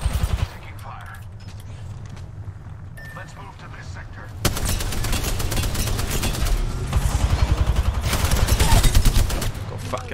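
Heavy video game gunfire. A rattle of shots gives way to a dense continuous fusillade of rapid automatic fire that grows louder toward the end, with voices mixed in.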